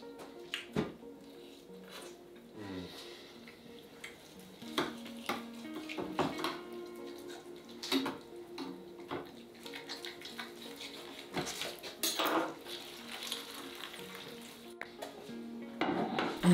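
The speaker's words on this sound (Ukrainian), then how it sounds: "Нарізаємо м'ясо на менші шматки." Knife and metal utensils clink and scrape at a fairly close distance in irregular bursts while pieces of spit-roasted whole ram meat are cut into smaller chunks.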